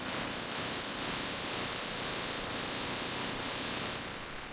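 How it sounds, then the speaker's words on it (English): A pressure water spray washing a car, a steady loud hiss of jetted water hitting the body without pause, close and continuous, with no voices. "Pressure water spray."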